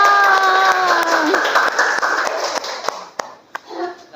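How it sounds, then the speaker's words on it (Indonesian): Brief, lively clapping from a class of children at an Indonesian school, mixed with chatter and a few sharp claps, tapering off after a few seconds. "Tepuk tangan dulu"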